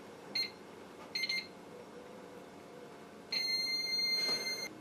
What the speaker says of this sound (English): turning this clockwise until it beeps